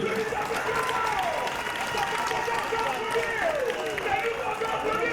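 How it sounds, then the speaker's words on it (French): Steady applause and cheering from the audience at a memorial ceremony honouring the mayor of Koumassi, continuous and even throughout, with voices blended into the crowd noise. "Oui, vous pouvez les applaudir, vous pouvez les acclamer"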